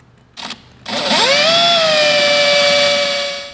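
A drill bores into a broken bolt, starting with a couple of short bursts before the motor spins up into a steady high whine that holds, then tapers slightly at the end.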